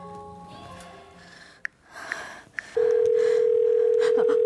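Telephone call to a school, a few soft dialing clicks followed by a loud, steady continuous phone tone that holds to the end.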